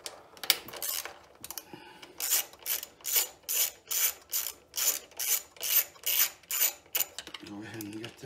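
A ratchet wrench backs out 10mm bolts on the gasoline carburetor of a Champion 9000-watt generator, giving a steady run of about a dozen rhythmic clicking strokes, close and fairly loud, with no talk.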